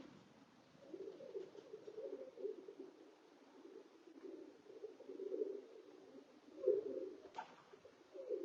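Racing pigeons returning from a WC 25 race flight at a loft, with soft repeated cooing and fluttering at moderate distance, steady throughout with a louder flurry near the end.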